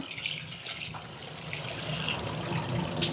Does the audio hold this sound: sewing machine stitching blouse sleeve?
no